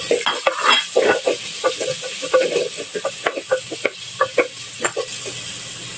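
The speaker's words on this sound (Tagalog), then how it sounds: "Habang ginigisa natin, may lasa na yung ating onion and garlic." Onion and garlic sautéing in a pan, with a steady sizzle broken by frequent close scrapes and clinks of a utensil stirring against the metal, loud and without talk.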